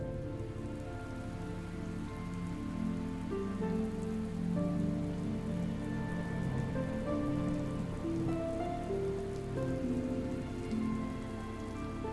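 Steady, dense rain falls without a break, spattering on surfaces in a continuous hiss, with soft tonal music running underneath in a dramatic outdoor scene.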